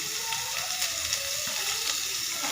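Chicken and chopped tomatoes fry in a pan, giving a dense, even hiss of sizzling oil with faint stirring, close and without talk.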